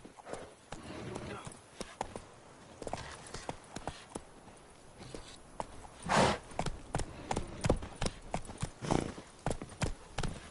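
Hooves clip-clop in a steady trotting rhythm from the horse Roach in The Witcher 3, close and clear, with a brief snort or whinny and a voice speaking over it.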